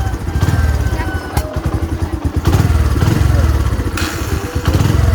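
A well-worn Bajaj Platina 100 motorcycle with about 4,814 on the odometer runs close by, its engine chugging in a steady, slightly uneven throb with thuds and clatter, under a loud bed of noise.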